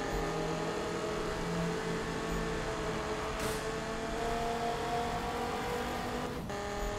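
A Dodge Viper in the Need for Speed video game races through a tunnel on nitro boost, its engine a steady, loud, continuous roar with sustained engine tones and a brief whoosh partway through, with no talking.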